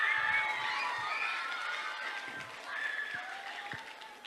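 Audience at an elementary school fifth grade celebration applauding: a broad, sustained roar of clapping that gradually eases and swells again, with faint whistles and cheers mixed in.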